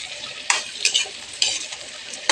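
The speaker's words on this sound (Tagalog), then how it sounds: "piprituhin natin yan para sabay-sabay" Food sizzles in a pan with a steady crackle, punctuated by a few sharp clinks of a utensil against the pan.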